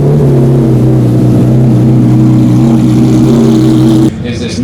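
A 1997 McLaren F1 GTR race car's engine holds a loud, steady, droning note up close before it abruptly drops away near the end.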